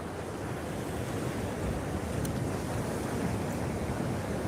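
Steady wind and surf roar at a fishing pier, a dense continuous rumble with buffeting noise on the microphone and no pauses.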